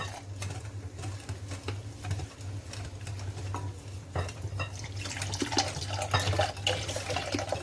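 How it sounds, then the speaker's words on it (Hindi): Milk is poured into semolina in a kitchen, a soft continuous liquid trickle and splash with light stirring noises under a steady low hum, close and fairly quiet. "यहाँ पर मैं सबसे पहले सूजी को दूध डाल के इसको मैं 10 मिनट के लिए भिगो दूंगी"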